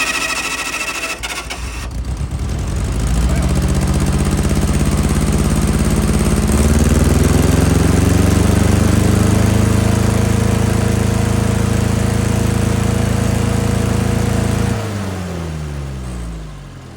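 A 1960 military generator engine cranks and runs, settling into a loud, steady mechanical drone with a rising pitch before dropping back, close and continuous throughout.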